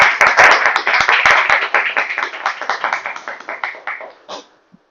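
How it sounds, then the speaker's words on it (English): An audience applauds a Toastmaster at a club meeting, a burst of dense, close hand clapping that gradually thins and fades out over about four seconds, ending with a few scattered claps. "Can we have a huge round of applause for Toastmaster?"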